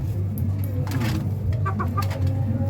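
A fighting rooster on a house roof deck makes soft, low chuk-chuk clucks, a few short calls close by over a steady low background hum.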